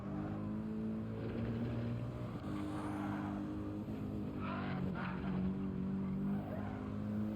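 A race car in Gran Turismo 7 holds a steady, loud engine drone, then runs into gravel, with gritty crunching bursts midway through.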